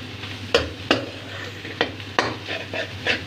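A large spoon stirs a cooking pot with cumin seeds, scraping in several distinct, close strokes about half a second apart over a faint background sizzle.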